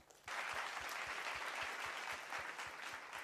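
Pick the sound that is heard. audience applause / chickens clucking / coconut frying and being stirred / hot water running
audience applause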